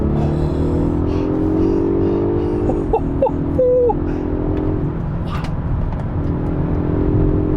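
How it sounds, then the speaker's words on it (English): A Polestar 1 being floored at full throttle on the road, a steady, fairly loud hum and whir of drivetrain and road noise with a brief rising tonal whine partway through, no voices heard. "All right, driving the Polestar 1. I'm gonna floor it here."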